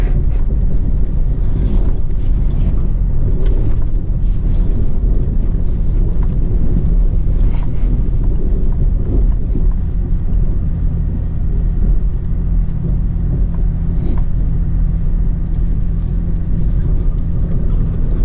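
Toyota Tacoma in four-wheel drive climbing a steep off-road desert trail on Harris Springs Road near Las Vegas, a steady loud low engine and drivetrain rumble with wind buffeting throughout, no talking.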